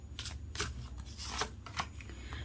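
Tarot cards from a unicorn-themed deck being shuffled, a steady run of soft, papery riffles and flicks close by with no talking.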